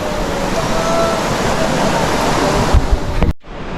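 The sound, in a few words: river water flowing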